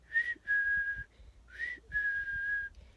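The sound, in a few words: whistled imitation of chickadee mating call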